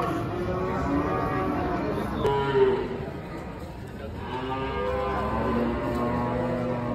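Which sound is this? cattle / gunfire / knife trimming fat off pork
cattle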